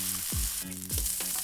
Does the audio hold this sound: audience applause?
no